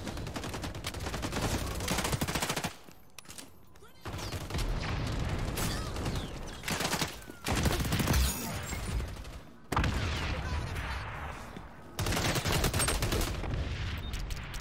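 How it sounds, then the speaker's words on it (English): Gunfire in the video game XDefiant, with dense bursts of rapid automatic shots and a P90 in play, loud and sustained in long stretches broken by brief pauses. "I'm getting shot."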